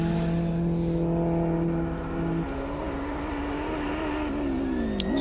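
A front-wheel-drive Honda race car on the Simola hillclimb course, its engine a loud, sustained drone that holds steady and then rises in pitch as it accelerates past.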